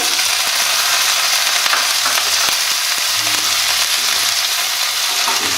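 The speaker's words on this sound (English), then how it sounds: "Let me saute this for some time." Green chili, capsicum and onion sauté in a hot pan, giving a steady, loud frying sizzle throughout with a few faint scrapes of a spatula, no talking.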